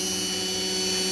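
A Dremel rotary tool runs during jewelry making, a steady high-pitched whine with a constant tonal hum, close and loud for about a second.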